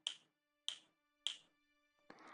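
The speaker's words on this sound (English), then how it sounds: "can you hear me when I snap my fingers?" Three crisp, sharp finger snaps ring out at an even pace close to the microphone in a quiet room, followed by a brief breathy sound.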